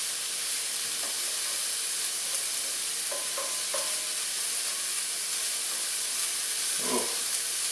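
Finely minced garlic frying in oil gives a steady, faint sizzle and hiss that runs the whole time, with a few soft stirring clinks scattered throughout.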